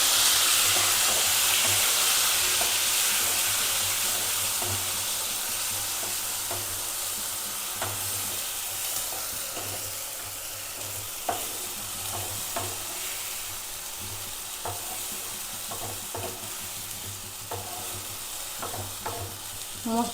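Ground spice paste sizzling in hot oil with fried potatoes, being stirred, for an egg and cauliflower curry; steady close frying hiss with repeated scrapes and clinks of the spatula throughout, no talk.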